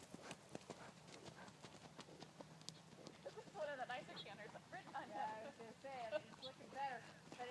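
A horse cantering on a riding lesson, its hooves drumming in a quick rhythmic beat under ongoing talk, with the creak and jingle of tack and a snort or breath now and then.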